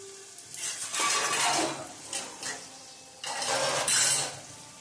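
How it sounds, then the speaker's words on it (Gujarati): Semolina roasting in a pan on a gas stove, a soft sizzle under repeated scraping and stirring strokes that come in several bursts, close and moderately loud. "બાજુના ગેસ ઉપર આપણે રવો શેકીએ છીએ, એકદમ રવો શેકી લઈ"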